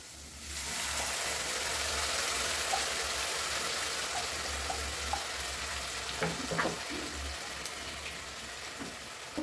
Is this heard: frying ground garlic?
yes